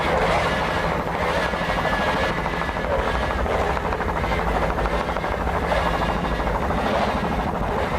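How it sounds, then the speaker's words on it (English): A 1994 Key West world championship racing powerboat driven by twin 200-horsepower outboard engines roars continuously, a loud dense broadband drone with no let-up and no voices. "Two 200-horsepowered outboards."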